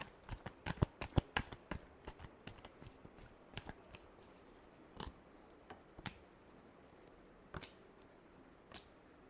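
Tarot cards being shuffled by hand in a quiet room, a run of sharp riffling snaps and flicks, dense at first then thinning to scattered single clicks, close and fairly soft with no talking.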